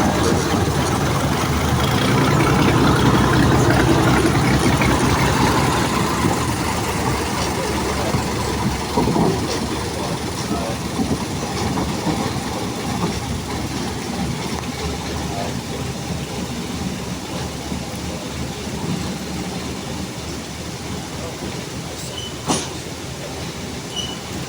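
A train engine shunts off with a steady rolling rumble of rail wheels and engine noise, loud at first and gradually easing, with a sharp squeal near the end and voices talking faintly over it.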